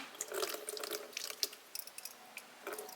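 Water poured slowly from a bucket while tending orchids, a soft trickle with scattered drips and splashes, close and fairly quiet.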